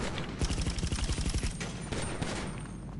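Rapid gunfire in GTA V Online, a dense burst of close, sharp shots in quick succession that rattles for about a second and a half, then thins into scattered single reports and fades.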